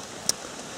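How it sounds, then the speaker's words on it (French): Pouring rain falls on a hike through the Creuse countryside near Linard and Malval, a steady close hiss of drops broken by one brief sharp tap. "on va reprendre sous vraiment une pluie battante"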